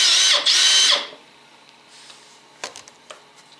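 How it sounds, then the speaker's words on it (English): A power drill backs a screw out on a Suzuki DR650 motorcycle during a battery change: one loud, close whirring burst of about a second, followed by quiet clicks and small handling knocks. "So I'm going to use my drill here."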